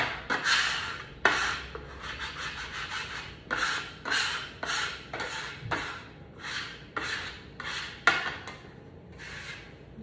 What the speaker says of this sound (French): On va gratter ce qu'il y a sur la table.